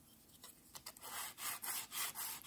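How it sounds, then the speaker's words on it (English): A wooden Santa Cruz Tech Deck fingerboard has its side sanded straight, producing close, steady rhythmic rasping strokes that speed up and carry on alone without talk. "First, I'm going to sand the side of the board to try and make it straight"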